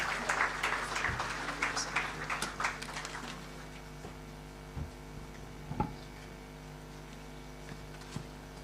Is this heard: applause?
yes